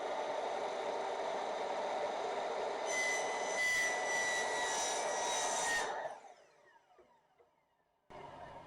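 Miter saw cutting a 45-degree angle on wooden base trim: a loud, close, steady high whine for about six seconds that spins down and fades, then a brief restart near the end.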